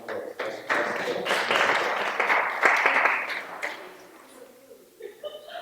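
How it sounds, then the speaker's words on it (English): A crowd applauds at a Juneteenth open mic at the Windsor Art Center, a dense burst of clapping that swells for about three seconds, then thins out as a voice starts speaking. "Let's give her a round of applause."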